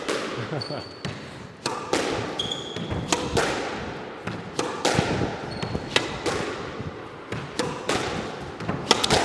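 A squash ball is struck with a trickle boast during rallies on a squash court. Repeated sharp cracks of racket and wall, with bright shoe squeaks and low voices underneath.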